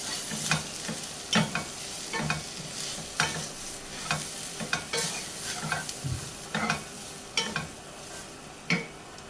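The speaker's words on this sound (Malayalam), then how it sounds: "അപ്പോൾ ഇതെല്ലാം കൂടെ ഒന്ന് ഇളക്കി മിക്സ് ചെയ്യാം നമുക്ക് പൊടികളൊക്കെ ഒന്ന് മൂപ്പിച്ചെടുക്കാം" Kashmiri chili powder and spice powders being stirred and roasted in a hot pan for a homemade chicken curry, a steady oily sizzle broken by repeated scraping spoon strokes at an uneven rhythm, close and alone without talk.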